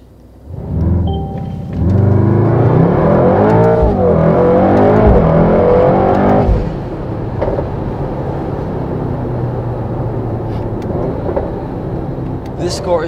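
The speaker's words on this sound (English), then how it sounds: "Let's try the 0 to 100 kilometers an hour in the race mode." A 2019 Mercedes-AMG GT63 S 4-door coupe launching from 0 to 100 km/h in race mode, its engine roaring loudly and climbing sharply in pitch, then dropping back to a lower, steady drone.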